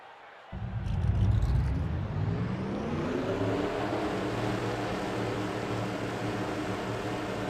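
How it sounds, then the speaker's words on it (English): A full field of NASCAR-style stock car engines firing up together at Talladega in a racing video game, jumping from quiet to a dense, loud idling rumble that holds steady. "Drivers, start your engines!"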